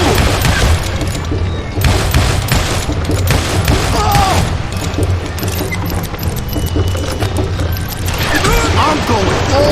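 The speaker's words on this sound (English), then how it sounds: "I can shoot too!" Gunshots fill a gunfight in Call of Juarez: Gunslinger, loud and continuous with metallic clatter and booms layered throughout. Brief voices come through the din.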